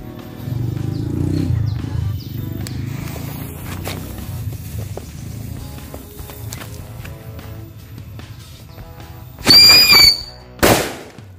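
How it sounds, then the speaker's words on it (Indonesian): A mercon harimau getar bumi firecracker set off for Lebaran, heard as scattered rustling and faint pops before two loud, sharp close bangs near the end, the second a separate blast just after the first. "kita nyalain mercon harimau getar bumi"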